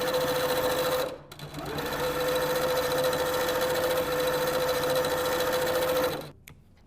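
A sewing machine stitches quilt block pieces for an American flag quilt block. It runs with a steady, close mechanical whir, briefly slows and pauses near the start, then keeps going before stopping at the end.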